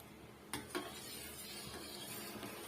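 Thick milk coming to a boil in a pan while a spoon stirs it, a soft continuous bubbling hiss with a couple of brief scraping knocks near the start, fairly faint and steady.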